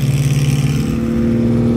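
A small vintage Siata sports car at the Pebble Beach Concours runs loud and close, its engine holding a steady raspy drone that rises slightly in pitch as it revs.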